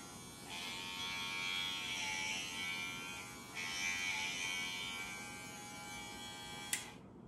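A Royal Clips hair clipper from a beginner barber fade kit running close by with a steady high-pitched electric buzz, briefly dipping and restarting midway before cutting off abruptly at the end, with no talking.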